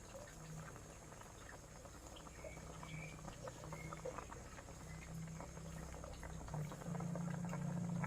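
A pot of water boils steadily for a mushroom curry, with a continuous bubbling and low rumble throughout and no voices.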